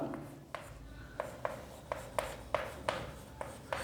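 Chalk writing on a board during a chemistry lecture on iron extraction, a series of short scratchy strokes and taps at an irregular rhythm, fairly faint in a quiet room.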